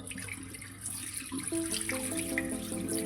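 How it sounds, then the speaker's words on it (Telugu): Water runs steadily from a tap into a sink before handwashing, a continuous close hiss with a faint tone sounding partway through. "ట్యాప్ ఆన్ చేసుకోండి"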